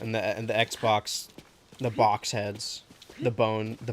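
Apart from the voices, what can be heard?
No distinct noise like a dog, phone or traffic.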